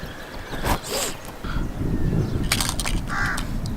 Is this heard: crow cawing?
yes